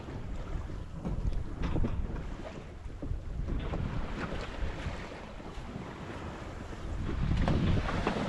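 A sailboat sailing solo off Catalina Island on a broad reach at about 4 knots, with waves coming nearly beam on. Steady wind rush and water wash fill the clip, swelling louder toward the end, with no voices.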